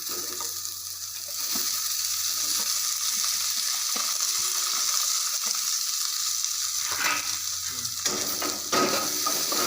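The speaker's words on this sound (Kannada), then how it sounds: "ಸ್ಲೈಸ್ ಮಾಡ್ಕೊಂಡಂಥ ಈರುಳ್ಳಿ ಹಾಕ್ತಿದ್ದಾರೆ." Sliced onions fry in a pan for chicken manchurian, a continuous crackling sizzle broken by scraping stirs, with a quieter stretch at the start before the hiss settles in loud and steady.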